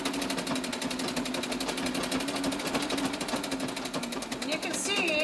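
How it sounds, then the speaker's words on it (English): A treadle sewing machine stitches a cloth table napkin with a fast, even, rapid clatter of the needle, close up and continuous throughout. "You can see that you can sew just as quickly on a treadle machine as you can on an electric machine."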